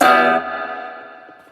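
A sustained guitar chord through a Joyo Gembox floor modeller's reverb rings out with a long, washy tail that slowly decays, the note fading into a spacious wash over about a second.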